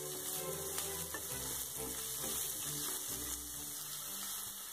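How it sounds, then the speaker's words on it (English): Chopped carrot frying in a pan with urad dal, dry red chilies and curry leaves, a steady close sizzle with soft stirring scrapes, no talking. "Once the urad dal is slightly brown, add the chopped carrot. Let's give it a stir."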